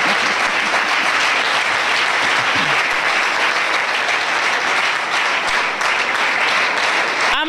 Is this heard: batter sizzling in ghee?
no